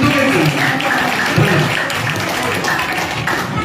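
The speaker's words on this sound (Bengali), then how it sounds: "একমাত্র সুবলের জন্য করে না হাততালি হবে ওর এই উদ্যোগের জন্য।" An audience at a ramp walk show in Kakdwip claps in a sustained, mid-distance patter of applause, mixed with crowd voices throughout.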